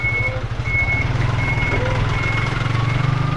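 A cement truck works at a fortress wall restoration site: a steady, loud diesel engine rumble under a repeating reversing beep that sounds at an even pace throughout.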